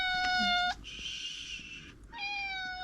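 A cat gives two loud, drawn-out, tonal meows close by, separated by a breathy hiss-like pause.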